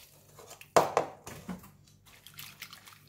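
Bean sprouts are rinsed in a container of water, giving a few close sloshing splashes and trickles followed by quieter dripping and shifting water, with no talk.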